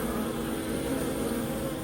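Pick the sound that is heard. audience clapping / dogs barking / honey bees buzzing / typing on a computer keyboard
honey bees buzzing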